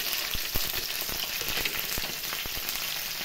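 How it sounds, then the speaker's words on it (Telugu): Green chillies, cumin and coriander seeds fry in hot oil for a Telugu roti pachadi, making a dense, continuous crackle with sharp pops scattered throughout. The sound is close and fairly loud, and there is no speech. "పచ్చిమిర్చి కూడా వేగిపోయినాయండి"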